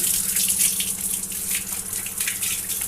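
Kitchen tap runs steadily as a brass vessel, scrubbed with incense-stick powder, is rinsed beneath it, producing a continuous close splashing gush with no voices.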